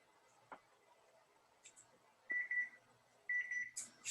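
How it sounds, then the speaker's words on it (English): A kitchen timer beeps in a home kitchen during pickle making, two short bursts of rapid electronic beeps separated by a pause, fairly quiet, with small clicks and handling noises around them. "Oh, there's the timer."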